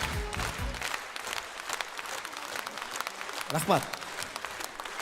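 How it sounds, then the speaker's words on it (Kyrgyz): An audience at a live comedy show claps in a brief, moderately loud patter, while a performer speaks over it and says a quick thanks. "Өтө кол чаба берсеңер адашып кетем мен"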